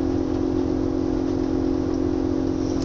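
An air compressor hooked to a tank through a pressure switch runs steadily with a constant low mechanical hum and broadband whir, sounding somewhat muffled and distant, with no talking.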